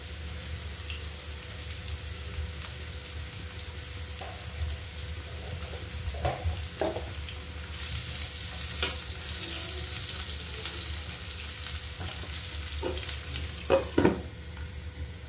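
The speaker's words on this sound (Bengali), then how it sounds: "তেল গরম হয়ে গিয়েছে, এবার আমি পেঁয়াজ দিয়ে দিব" Onions frying in hot oil give a steady close sizzle throughout, with a few soft stirring scrapes and clinks near the end.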